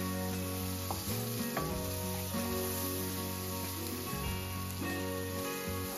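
Chili frying in oil at the start of a chicken curry, a steady close sizzle with occasional stirring scrapes running throughout.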